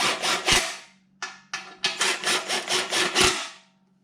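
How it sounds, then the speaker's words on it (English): A power tool drives bolts into the muffler of a Cub Cadet RZT-54 zero-turn mower: short, rattling bursts that pause and restart in a quick rhythm, close and fairly loud. "So I'm just whizzing these bolts in here."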